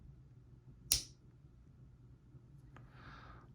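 A Zippo trapper lighter lid snaps shut with one sharp, crisp metallic click near the start, followed later by a softer small click and faint rustle in a quiet room.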